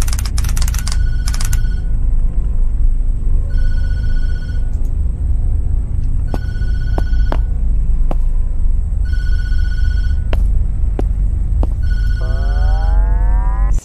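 In the Tattletail video game, a telephone rings in repeated electronic bursts with short gaps between them, loud and clear, mixed with scattered clicks and clunks and a rising chirp near the end.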